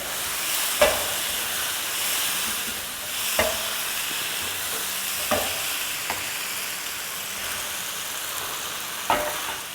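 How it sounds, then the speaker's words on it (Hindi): Chicken sautés in a hot pan for a chili chicken dish, a steady broad sizzle with a few sharp scrapes and clacks of the stirring spoon spaced every couple of seconds, close and moderately loud, no voices. "चिकन डाल के सौटे करेंगे।"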